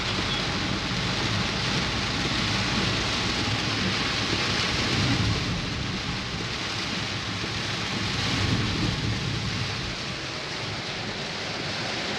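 Heavy rain pours down steadily with deep rolling thunder rumbling throughout, loud and continuous, no voices.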